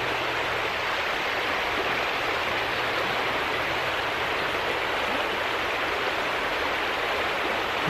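Fast-moving stream water rushes in a loud, steady, unbroken roar close by, with no pauses or other sounds standing out.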